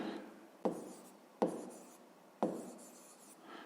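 A pen writes on paper while a math exercise is being solved, three distinct stroke onsets, each trailing off into soft scratching, close and quiet with no voices.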